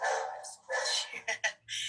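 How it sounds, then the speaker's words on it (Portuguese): A female dog lets out a quick series of close, high-pitched barks and yips, some overlapping, each burst short and loud against an otherwise quiet room. "Essa é minha cachorra."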